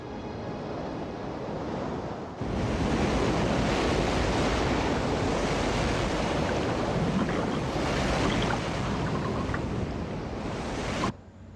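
Rushing tsunami water roars in a dense, continuous wash with wind-like buffeting, loud and unbroken after a sudden jump in level, then cut off abruptly.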